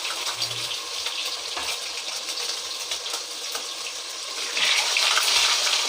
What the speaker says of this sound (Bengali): কড়াতে আমার তেলটা গরম হয়ে গেছে, আমি প্রথমে ডিমগুলো এতে ভেজে নেব।